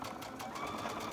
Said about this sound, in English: And you just keep sewing.